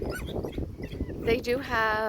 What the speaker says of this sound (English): that's my dog going crazy because we went out to dinner and she's like,